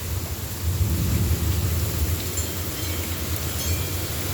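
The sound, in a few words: thunderstorm with thunder and rain in Florida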